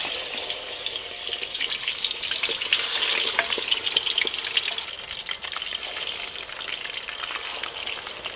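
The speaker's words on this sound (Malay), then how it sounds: "Ready untuk kita goreng." Chicken pieces frying in hot oil in a pan, a continuous close crackling sizzle that swells louder midway and then settles to a steadier hiss.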